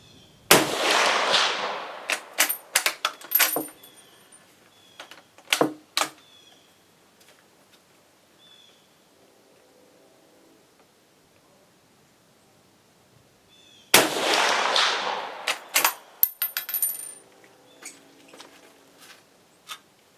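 1891 Peruvian and Argentine Mauser rifles fire at an outdoor range out to 200 yards: two loud, sharp shots with ringing echoes, spaced far apart, and small mechanical clicks in between.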